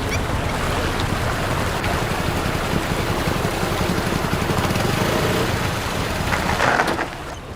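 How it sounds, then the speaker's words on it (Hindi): Steady motorbike engine droning without a break, a continuous mid-level rumble that eases off near the end as the bike is brought to a stop. "बाइक क्यों रोक दी भैया?"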